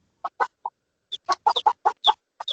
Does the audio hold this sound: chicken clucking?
yes